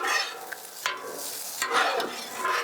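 Pork fried rice being stirred and scraped on a Blackstone flattop griddle, with steady sizzling and intermittent sharp spatula scrapes and clacks close by, no talking.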